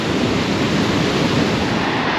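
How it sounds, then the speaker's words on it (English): A small waterfall near Godafoss outside Akureyri, Iceland, gives a steady, loud, even rush of falling water with no pauses and no talking. "Oh, another little waterfall."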